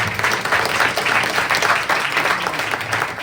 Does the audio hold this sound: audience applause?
yes